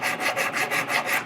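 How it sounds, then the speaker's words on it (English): A file rasps across a forged knife blade in six quick, even back-and-forth strokes, close and crisp. "Just filing it smooth?"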